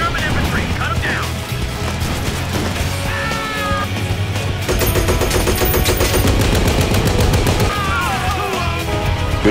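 Loud, dense gunfire in the Company of Heroes 2 World War II strategy game, with rapid machine-gun bursts, rifle shots and booms overlapping continuously under a frantic battle soundscape.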